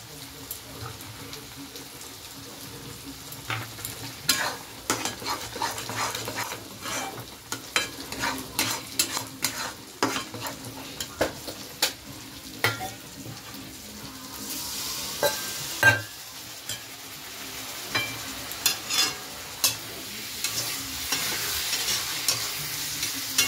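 Lentils with spices sautéing in a pan, a continuous sizzle broken by frequent sharp scrapes and clacks of a spoon stirring against the pan, close and moderately loud throughout, with no talking.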